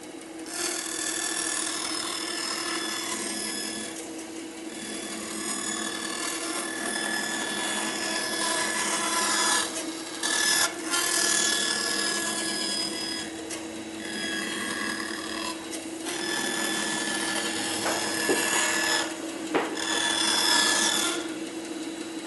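Band saw cutting a wooden circle on a circle jig, with a steady high whine and a rasping grind as the blade bites through the wood, varying in intensity over a long continuous cut with brief dips.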